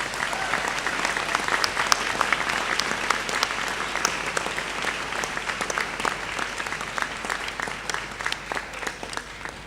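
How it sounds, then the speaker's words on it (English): Audience at a Monash University Malaysia graduation ceremony applauding the graduates, a sustained crowd of many hands clapping evenly throughout, moderately loud in a large hall. "I think we should again applaud our wonderful graduates."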